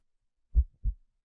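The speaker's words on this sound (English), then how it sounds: "Feel like you can hear your heartbeat." A heartbeat sound effect gives two deep, muffled thumps in a lub-dub pattern, isolated against complete silence.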